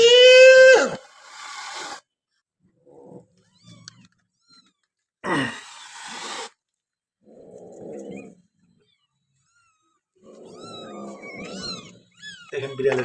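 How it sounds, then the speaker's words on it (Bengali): Mother cat with four newborn kittens in an office on a holiday, giving loud drawn-out cries and growls in bursts separated by silence, with a person talking between them. "এই যে বিড়াল বাচ্চা ফুটেছে।"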